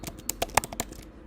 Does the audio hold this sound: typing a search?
yes